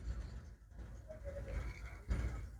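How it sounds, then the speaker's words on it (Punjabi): Flying pigeons offered for sale at a low price give faint, scattered cooing and soft rustling at a moderate distance, with a brief louder flutter near the end. "ਇਹ ਉੱਡਣ ਵਾਲੇ ਕਬੂਤਰ ਆ ਬਾਈ"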